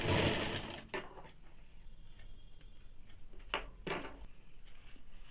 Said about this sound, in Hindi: अब मैं इसको डबल सिलाई डाल दूंगी।